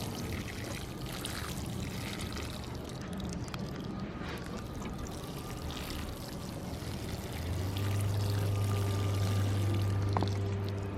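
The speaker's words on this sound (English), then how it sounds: "water them in really well" Water pours steadily from a hose or can over newly planted calla lilies in a garden bed. The splashing and trickling is continuous, and a low steady hum joins it toward the end.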